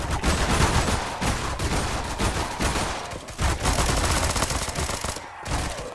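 Glock 18 gunfire in a Roblox zombie game, dense continuous automatic shooting with overlapping bursts and chaotic clatter throughout, loud and close.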